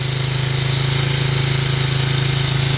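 A 1985 Honda Big Red 250 ATV engine idles slightly high after sitting unused for six years, a steady, loud, rapid mechanical chugging with an even buzzing drone and no pauses or talk.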